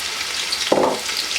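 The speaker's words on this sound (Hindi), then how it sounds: "तेल गरम करेंगे आप और उसमें आप डाल देंगे जो कि प्याज है" A sudden loud sizzle as onions hit hot oil over high flame, hissing steadily over a constant background crackle of frying, close and alone without voices.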